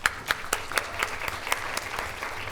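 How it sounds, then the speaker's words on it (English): A small group at a research showcase panel claps in a loose, rhythmic patter, individual claps audible at a quick regular pace, moderately close and fairly light. "Another round of applause for all of them."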